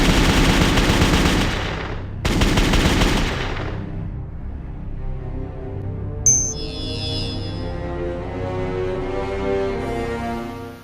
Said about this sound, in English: I'm going to shoot it with a 9mm